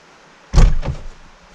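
Back doors of a converted bus swing open with a single solid thunk and a short rattling follow-through, close and loud, then quiet.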